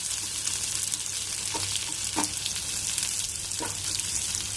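Onions frying in a pan make a constant, close hiss of sizzling oil, with a few faint clicks and pops rising through it.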